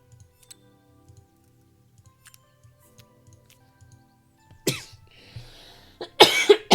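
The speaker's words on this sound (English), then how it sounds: "Oh god, I am coughing so much." Two or three loud, harsh coughs burst out near the end after a quiet stretch of faint ticking and small clicks.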